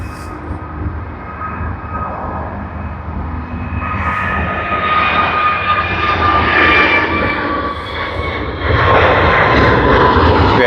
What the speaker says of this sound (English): We see the plane right up there taking off